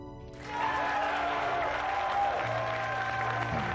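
A crowd in the Battlestar Galactica miniseries breaks into sustained applause and cheering after a brief quiet start, a dense, steady roar of clapping that runs to the end.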